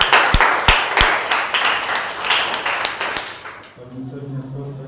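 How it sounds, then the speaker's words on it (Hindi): Applause from a church congregation at a Sunday service, honoring a couple's wedding anniversary: a few seconds of dense clapping that fades out, with voices continuing underneath. "इनके लिए जोरदार तालियां हो जाए।"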